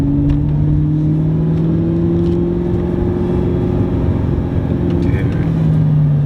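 An Audi R8 sports car engine drones loudly and steadily up close from inside the cabin, a deep sustained tone echoing off concrete, with speech over it.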